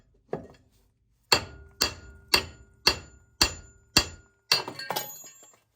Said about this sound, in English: now we're just going to smack it right on the top there to get it released from the bottom ball joint